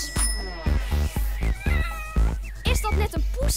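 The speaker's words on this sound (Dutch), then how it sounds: "Is dat net een poeske? Miauw, miauw, miauw." Repeated cat meows, about eight short plaintive cries in an uneven series, close and fairly loud, over a soft musical background.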